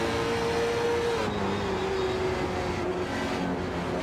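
A late model stock race car engine in iRacing drones steadily at high revs through a corner, its pitch sagging slightly then holding, loud and continuous with no talking.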